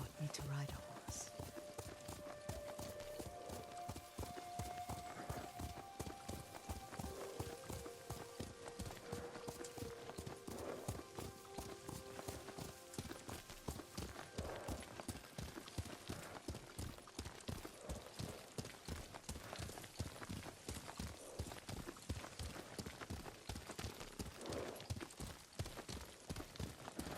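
Horse hooves clip-clop at a steady, rapid rhythm while riding in the game Ghost of Tsushima, continuous and close, with people talking over the hoofbeats.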